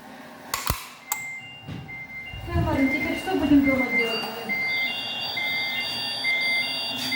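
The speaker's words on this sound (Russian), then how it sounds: "Делаем сработку пожарной сигнализации." Bolid S2000 BKI fire alarm system under test, giving a sequence of electronic beeps and then sustained, repeating high alarm tones that build over several seconds while a person talks.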